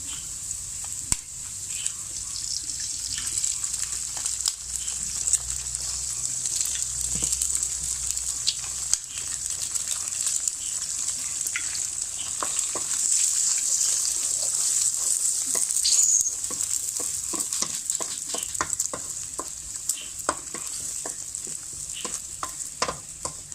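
Eggs fry with spinach in a hot pan, a steady bright sizzle running close and unbroken throughout, overlaid by frequent scraping and tapping stir strokes that grow denser toward the end, with no talking.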